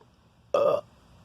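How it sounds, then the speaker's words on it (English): A single loud burp from a person complaining about hot weather, lasting about a quarter second and standing out sharply against a quiet room. "I burp every time on videos."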